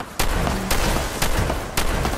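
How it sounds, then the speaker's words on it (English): A harpoon gun in the Fallout 76 video game fires four times, each a sharp loud blast that rings out briefly, spaced about half a second apart. "My man came through with the whole harpoon gun"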